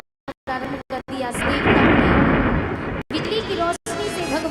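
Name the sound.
thunder sound effect during a religious storytelling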